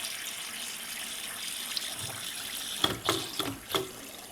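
Water running from household plumbing fixtures during a toilet check, a faint steady trickle and flow with a few louder splashing bursts near the end, with no talking.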